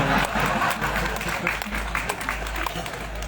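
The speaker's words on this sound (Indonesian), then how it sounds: "Tepuk tangan lah sama Asbar." Audience applause at a halal bihalal gathering, a steady dense wash of clapping from a crowd with voices mixed in, over a constant low hum.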